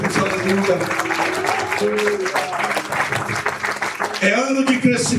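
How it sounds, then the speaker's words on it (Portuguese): Loud audience applause during a church service, thick clapping under continuous amplified singing or preaching. "Pode aplaudir bem forte"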